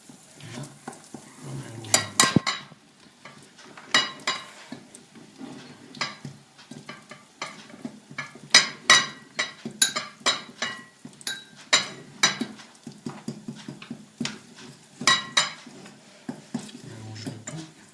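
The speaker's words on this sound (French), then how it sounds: "Mélange le tout." Butter being stirred into a mixture in a pot while making millefeuille: irregular scraping and clinking strokes of a utensil against the pot, close and moderately loud, with soft sizzle underneath.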